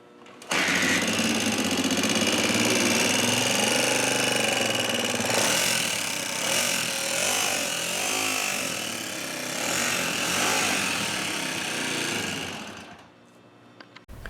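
A rebuilt engine, freshly reassembled with corrected cam timing and adjusted valves, fires up and runs with a loud, steady mechanical clatter for about twelve seconds before shutting off.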